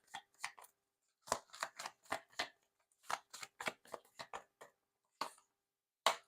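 A deck of cards is shuffled in quick, close riffling bursts separated by short silences, soft and crisp with no voices.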